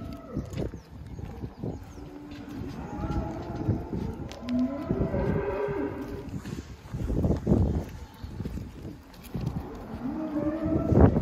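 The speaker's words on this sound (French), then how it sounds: "Toutes les vaches nous font un petit défilé là." Cows lowing repeatedly inside a busy barn during silage season, several overlapping moos near and far over steady shed clatter and background noise.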